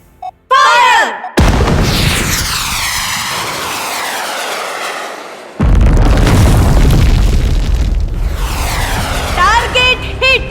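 Missile strike sound effects: big booming blasts and roaring jet-like rushes with a long, slowly fading rumble, then a second heavy hit and sustained roar, loud and full, with a synthetic edge.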